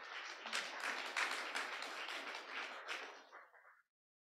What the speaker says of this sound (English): Let's give a round of applause for Kaya